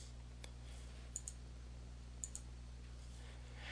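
Computer mouse clicks while selecting contacts in Outlook 2013: a single click, then two quick double-clicks, crisp and close over a steady electrical hum with no talking.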